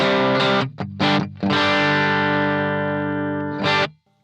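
Electric guitar on the bridge pickup through the vintage channel of a Bluguitar Amp1 Mercury Edition amp, heard as a few choppy chords and then one long, loud, crunchy ringing chord that fades slowly before a final stab.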